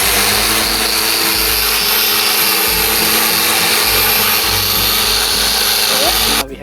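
A polishing machine buffing a plastic car scoop to restore faded paint, a steady loud motor whir with a pulsing low drone, close and continuous, stopping abruptly at the end.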